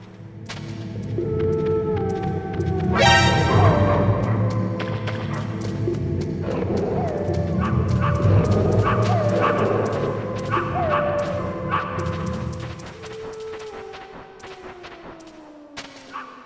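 Dogs bark and yip in the video game Metal Gear Solid on PlayStation, a run of sharp repeated barks over game music and thuds, with no talk.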